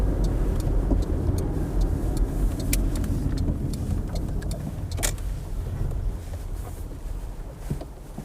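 A car slows and pulls in at the roadside, engine rumble and tyre noise close and steady under wind buffeting, easing down in level toward the end with a few faint clicks.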